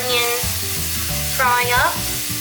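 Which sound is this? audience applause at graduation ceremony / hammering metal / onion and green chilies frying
onion and green chilies frying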